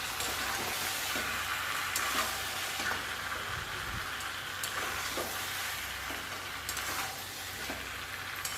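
Bengali curry sizzles steadily in a hot pan as it is sautéed, a dense, even hiss with occasional faint stirring clicks and no voices.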